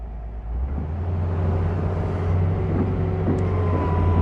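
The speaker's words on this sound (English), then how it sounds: "Ben, go ahead and drive towards the tire." A tracked digging machine drives toward a tire, its engine a steady low rumble that grows slightly louder after a quiet start, near and continuous.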